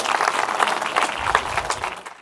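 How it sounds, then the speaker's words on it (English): An audience at a talk on humanoid robots claps in a dense patter of many hands, moderately loud and fairly close, tapering off toward the end. "Can I get a round of applause for Mr. Will Jackson, please, and the Robo T"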